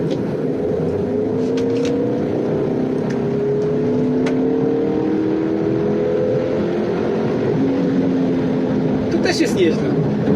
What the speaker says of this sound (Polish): Natomiast jak wciśniemy gaz w podłogę